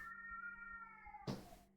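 A stray cat meows loudly indoors, one drawn-out wavering call followed by a brief rustling bump near the end.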